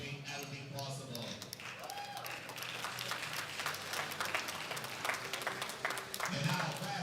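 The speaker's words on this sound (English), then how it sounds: "let's have another round of applause for our spotters today, our referees and our officials that made everything possible" Applause for spotters, referees and officials at a junior powerlifting world championship, a steady wash of clapping from the crowd in a large hall, mixed with voices and a brief tone over it.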